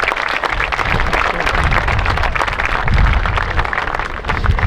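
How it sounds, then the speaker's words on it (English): A graduation audience at a high school ceremony applauds steadily, dense continuous clapping from a large crowd filling the hall at full volume throughout. "Give yourselves some applause."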